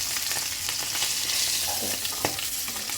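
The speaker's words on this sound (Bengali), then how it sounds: "দেখুন কীভাবে মাছটা ভেজে নিলাম।" Fish fries in hot oil in a pan, a loud, continuous sizzle with scattered crackles and pops and an occasional scrape of a utensil, with no talking.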